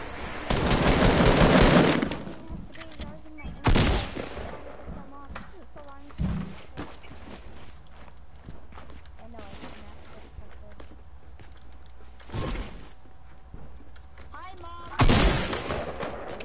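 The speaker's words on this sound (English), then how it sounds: "Oh my god, I'm getting shot at!" Video game gunfire comes in several loud bursts of rapid shots, heaviest at the start and then recurring at intervals, with quieter thuds between them and talking over parts of the clip.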